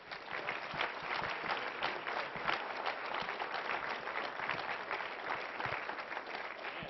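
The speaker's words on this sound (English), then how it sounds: "a nice concluding round of applause for Senator Ted Kennedy" Audience applause for Senator Edward Kennedy closes a public discussion, a steady, dense clapping crowd sustained at even loudness for the full seven seconds.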